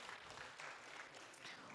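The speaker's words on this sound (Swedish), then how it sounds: "En stor, stor applåd till er." An audience applauds at a live design competition event, a dense, steady wash of clapping that fills the whole moment at a distance, with no voices standing out.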